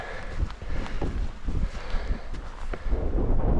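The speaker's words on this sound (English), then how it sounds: "But it's windy than I thought it would be." Strong wind buffeting the microphone on open Lake District fells, a continuous rumbling roar with irregular gusts, loud and close.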